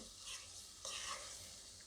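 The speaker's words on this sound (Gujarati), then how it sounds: "સિંગ તેલમાં લસણવાળો ચટણીનો વઘાર કરીએ" Garlic chutney tempering sizzles in hot peanut oil, a soft continuous hiss close by that swells briefly midway, with no talk over it.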